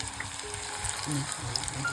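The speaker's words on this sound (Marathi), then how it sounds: "फटाफट फोडणी करून घेतो" Faint, steady sizzle of spices frying in hot oil for a tempering, with a person talking over it.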